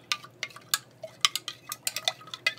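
A lye solution is stirred in a container, giving a quick irregular series of light clinks and taps from the utensil against the side, close and fairly clear.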